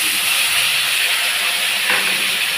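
Ground onion paste hits hot oil in a pan for a doi katla curry, giving a steady, loud broadband hiss with a slight surge near the end, no voices.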